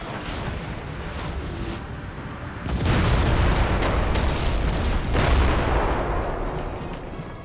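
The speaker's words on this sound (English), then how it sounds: "Make sure the guns shoot over their heads." Napoleonic cannon and artillery fire in a Napoleon: Total War battle, loud repeated booms and rumbling blasts swelling after a few seconds over steady battlefield noise.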